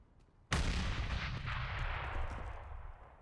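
A sudden loud burst of gunfire from a UMP and P250 pistols in Counter-Strike on the Overpass map, with a sharp onset and a rumbling, reverberant tail lasting a few seconds.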